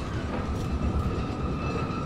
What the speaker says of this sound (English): I'm riding this crazed minecart